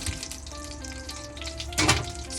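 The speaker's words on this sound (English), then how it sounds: "That popping you hear in the background is some butter that I'm going to pan sear" Butter pops and crackles in a hot pan as it heats before dumplings are seared. The frying sits faintly in the background, with a brief louder burst near the end and no voices.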